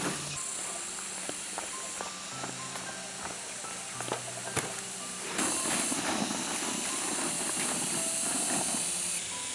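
Food frying in a pan in a home kitchen gives a steady hiss of sizzling with small clinks, growing louder and fuller about halfway through.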